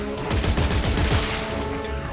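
Gunfire in the video game Dead Space 3, a loud, dense burst of shots heard close up, with no talk over it.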